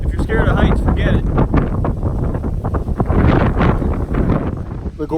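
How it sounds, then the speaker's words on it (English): Strong wind buffets the microphone high above a gorge on a hike at the Sleeping Giant near Thunder Bay, Canada, with loud rumbling gusts that rise and fall. "It's super windy."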